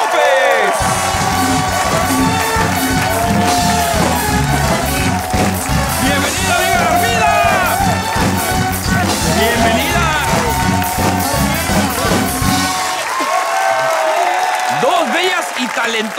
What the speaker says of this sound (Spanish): Un aplauso para recibir a Tania Ángeles y Armida López.